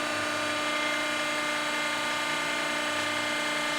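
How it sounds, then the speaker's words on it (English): Cincinnati hydraulic power shear rated for 1/4 inch plate, 10 feet wide, running with a loud steady hydraulic whine and hum during a cut, constant and close with no speech. "So now we made our first cut."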